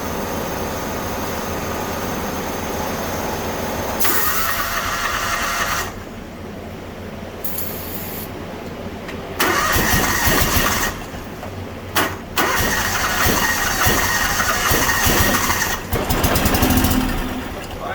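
A John Deere X724 riding mower with a no-start problem cranks and catches, its small engine sputtering and then running roughly, loud and close. Repeated cranking bursts and uneven revving come through a continuous broadband noise, with no talking.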